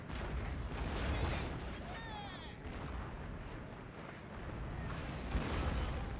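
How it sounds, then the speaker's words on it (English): Artillery shells whistle in and burst in the Fall of the Samurai battle game, a dense, rumbling barrage with sharp descending whines and repeated booms under continuous battlefield noise. "I hear the shells approaching."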